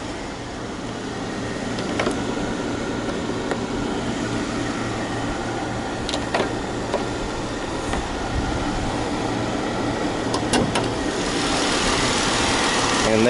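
A 3.6 liter Pentastar V6 car engine idles under the hood with a steady, continuous hum and faint mechanical ticks, fairly close and unbroken throughout, with no talk over it.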